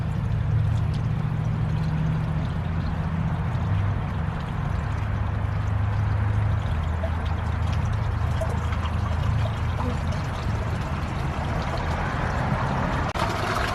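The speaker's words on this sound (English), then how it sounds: "the water fills up here and then pours out down here" Water pours and splashes continuously nearby in a steady gushing stream from an aquaponics siphon, with a low hum underneath.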